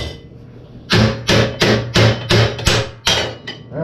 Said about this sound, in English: Where's my little claw hammer?